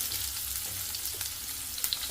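Onions frying in hot oil in a pan, a continuous bright sizzle and crackle with small pops, steady and close.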